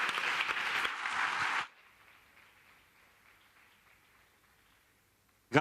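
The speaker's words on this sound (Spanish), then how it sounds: "Un aplauso para la mesa." Audience applause for a conference panel at an entrepreneurship congress, a loud burst of clapping lasting under two seconds that cuts off abruptly, followed by quiet room tone and a brief loud bump at the very end.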